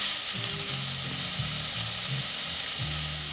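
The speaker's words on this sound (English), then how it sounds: "We'll get that frying up and crisp up" Beef bacon sizzles and spits steadily in a hot frying pan, a close, continuous crackle with low rhythmic pops throughout and no talking.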